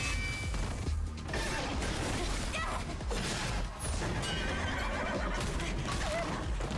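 A horse enemy in a video game neighs and charges amid dense, loud game noise, with crashing mechanical clatter and hoof impacts filling the whole stretch.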